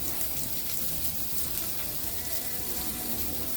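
Steak sizzling on a hot griddle, a steady, close hiss and crackle of frying that holds evenly for a few seconds with no talking.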